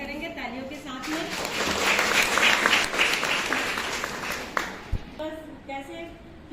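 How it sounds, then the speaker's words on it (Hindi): An audience at a college World AIDS Day awareness program claps to welcome a guest, a swelling burst of applause with voices and talk before and after it. "सब लोग स्वागत करेंगे तालियों के साथ में"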